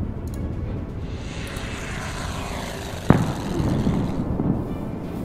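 Fighter aircraft engines in the Order of Battle war game roar steadily, with a sharp bang about two thirds of the way through and the engine drone continuing afterward.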